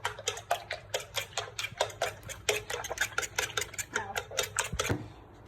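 Beaten eggs being stirred briskly in a bowl, a fast regular series of close clicking taps from the utensil against the bowl, with faint talk behind it.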